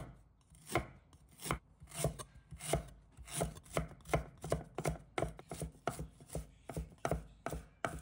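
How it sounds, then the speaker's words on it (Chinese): A knife minces a piece of fresh ginger in quick, even chops, a steady run of close, fairly quiet thuds at a brisk rhythm with no voices. "准备一块生姜，把它切成末。"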